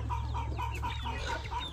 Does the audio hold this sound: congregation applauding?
no